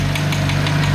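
Idling BMW M3 engine with front mount intakes, heard up close as a constant deep drone with a quick, even knocking tap repeating several times in a single second, no voices.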